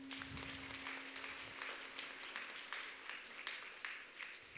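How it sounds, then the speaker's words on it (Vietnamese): A congregation applauds to welcome priests and guests at a parish Mass for the feast of St. Joseph the Worker. The clapping is distant and quiet but steady, over a faint constant hum. "Chúng ta cùng hân hoan chào đón quý cha, quý khách và cộng đoàn một tràng pháo tay."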